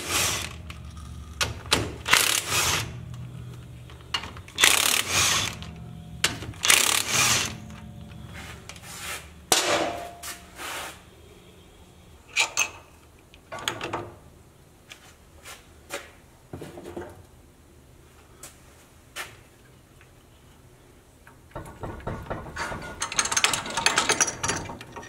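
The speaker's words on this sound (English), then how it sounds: "now I'm going to take a 15 millimeter socket and go ahead and zip these off" A 15 mm socket on an impact or ratchet tool zips differential bearing cap bolts off a Jeep Gladiator axle in a shop. There are repeated loud bursts of whirring and rattling with pauses between, then clinking metal and a final longer run.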